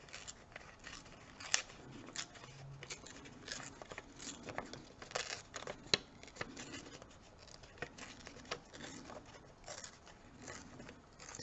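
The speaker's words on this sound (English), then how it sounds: "Just tear a teeny bit more off." Small piece of craft material being torn and handled close by, faint crisp ripping and rustling snips scattered through a quiet room.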